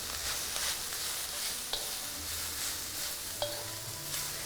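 Carrot and cabbage sizzle in a hot pan as a utensil stirs them, with a steady frying hiss broken by occasional scraping clicks and knocks against the pan, close and clear with no talk.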